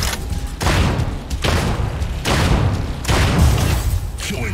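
Sustained bursts of mech gunfire and booming impacts in the Mech Arena video game, dense and loud, coming in several heavy waves with brief dips between them.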